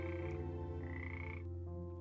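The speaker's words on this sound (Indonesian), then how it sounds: "Dan kebetulan ada seekor katak hutan di sana." A forest frog croaks in a continuous, buzzing drone, close and steady for a couple of seconds with no voices.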